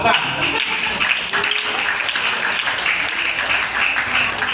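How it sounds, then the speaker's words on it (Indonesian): Students applauding a classmate's answer at a junior high school leadership training day, a loud, sustained wash of many hands clapping close by, steady throughout with no speech over it. "Tepuk tangan untuk Gian Arsyad Kahar"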